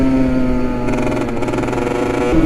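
A scooter engine hums steadily on the road close by, a continuous buzzing drone that wavers in pitch near the end, with no talking.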